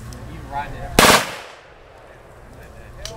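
An Astra 902 machine pistol fired in one short, loud full-auto burst, followed by a fading outdoor echo; a voice is heard faintly before the shots.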